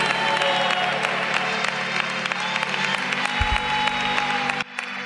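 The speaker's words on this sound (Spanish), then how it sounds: "Un fuerte aplauso al Señor" A church congregation claps enthusiastically during a baptism celebration service, a steady wash of applause with a low hum beneath, cut off abruptly near the end.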